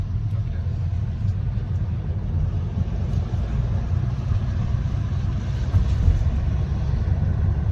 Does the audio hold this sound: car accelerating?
yes